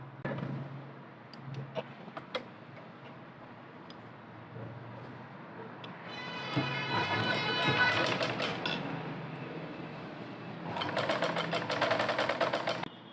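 Sewing machine running straight stitches along a fabric corner for tassels, its rapid mechanical clatter coming in two louder bursts over a steady room hum, with a voice talking.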